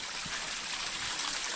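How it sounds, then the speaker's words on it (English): Tvinnefossen waterfall flows under a footpath in Nordfjordeid, making a steady broadband rush of falling water that stays even and fairly loud throughout, with no voices. "nice waterfall goes under the path"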